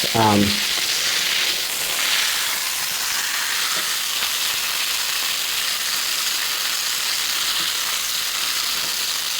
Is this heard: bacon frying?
yes